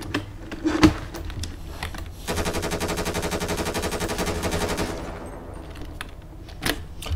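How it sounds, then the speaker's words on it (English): Gunfire at Grove Street in a police roleplay game: a few isolated sharp shots, then a long rapid automatic burst lasting a couple of seconds, followed by more scattered single cracks. "Shots fired at Grove Street, black vehicle."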